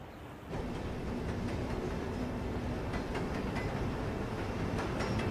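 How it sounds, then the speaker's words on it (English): A train running on rails toward a remote town starts abruptly and rumbles continuously, with rhythmic clicking over the track joints and steady broadband noise, close and fairly loud, with no voices. "it looks like there's a train that leads into his nearest town"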